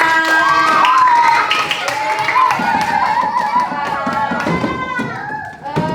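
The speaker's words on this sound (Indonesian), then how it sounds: "Tepuk tangan buat kalian semua" Children clapping in a classroom after a lesson, a fast, uneven patter of small hands under loud, overlapping voices and chatter that fill the room throughout.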